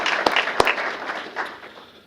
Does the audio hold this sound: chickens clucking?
no